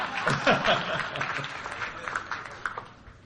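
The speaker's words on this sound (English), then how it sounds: "Let's have a round of applause" Applause from a crowd at an awards ceremony, with scattered laughter and a few voices mixed in, loudest at the start and tapering off.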